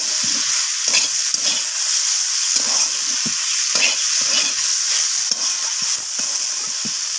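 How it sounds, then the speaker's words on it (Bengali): Eggplant and neem leaves sizzle loudly in hot oil, and a spatula scrapes and tosses them in irregular strokes across the pan, close and continuous. "নিম পাতাটা দিয়ে এবার আমি বেগুনের সাথে এইভাবে নাড়াচাড়া করে আবারও মিনিট দুয়েক আমি ভেজে নেব"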